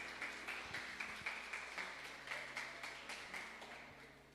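A church congregation claps along in steady rhythm during a Portuguese-language worship service, the applause fairly distant and soft with a regular beat throughout.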